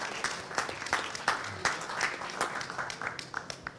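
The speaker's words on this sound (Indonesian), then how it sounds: "tepuk tangan buat Argentina" Applause from the audience at an Indonesian football federation press conference with PSSI chairman Erick Thohir, honoring Argentina: a moderate, steady patter of many hands clapping, with faint voices underneath.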